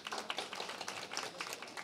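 An audience at a Sofia municipal youth event applauds, giving a dense, steady patter of many hands clapping close by with no voices over it.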